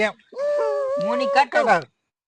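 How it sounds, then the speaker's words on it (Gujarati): A female dog barks and whimpers up close in a short run of yelping, howl-like cries with a brief pause between bursts, loud and clear with no other sounds. "પેલી કૂતરી"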